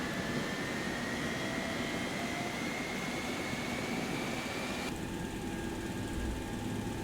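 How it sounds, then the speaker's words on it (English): A steady jet engine whine of a Boeing 727 in the X-Plane 11 flight simulator slowly rises in pitch over a constant roar during startup, with a slight shift in tone partway through. "Now your engine will start spinning."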